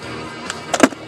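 A 2001 Nissan Maxima's center console armrest pops up at a button press: a short mechanical clunk and click cluster inside the quiet cabin, with a smaller click just before it.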